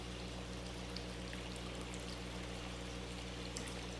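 Water from a fish tank pump pours and splashes continuously into a large tank, a faint, steady stream with a low motor hum beneath it and occasional brighter drips.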